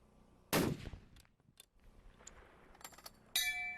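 A single sharp, close rifle report from an extreme long-range shooting competition at two miles, followed by quieter handling sounds and a second abrupt burst near the end.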